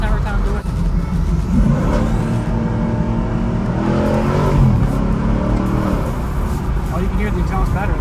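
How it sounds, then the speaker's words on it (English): A 2021 Chevy Camaro LT1's exhaust roars as it accelerates on a highway, engine note rising through gears amid loud road and wind noise. "Oh, you can hear the exhaust better there."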